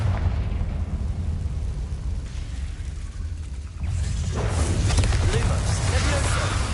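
Confringo blasting spell in the video game Hogwarts Legacy, a low rumbling blast that swells partway through into a broad, sustained roar over a constant low background rumble.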